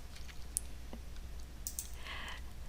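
A few sharp, quiet computer mouse clicks come from someone working in 3D rigging software, spaced irregularly over a low room hiss with no talking.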